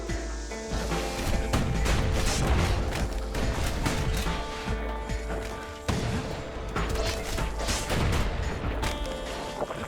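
Cannon fire in a video game booms repeatedly under busy game music and effects, loud, dense blasts and crashes filling the scene, with no talk.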